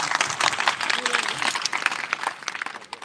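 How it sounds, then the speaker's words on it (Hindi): Audience applause for saints at a charitable trust gathering, a dense, lively burst of clapping that carries throughout with some crowd noise mixed in. "साधु संतों के लिए 2 तालियों की गड़गड़ाहट तो कम से कम होनी"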